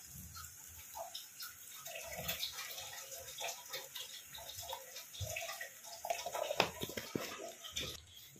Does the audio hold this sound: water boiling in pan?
yes